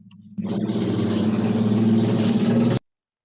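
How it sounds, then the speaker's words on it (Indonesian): A motorcycle exhaust roars loudly and steadily for a couple of seconds, a broad engine rumble that starts abruptly and cuts off sharply, with no talking over it. "Aduh, knalpot motor."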